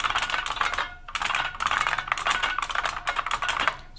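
Rapid typing on an IBM 6780 Quietwriter keyboard, a dense run of loud, sharp clacking keystrokes with short pauses between bursts, close and alone.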